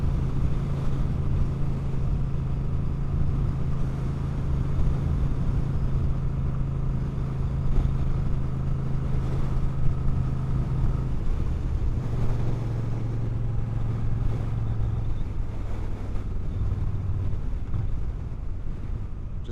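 A Moto Guzzi V7 III motorcycle engine drones steadily while riding in strong wind, the low engine note dropping in pitch as it slows under engine braking, with heavy wind rush over the microphone throughout.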